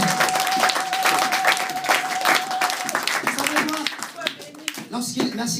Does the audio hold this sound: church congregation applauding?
yes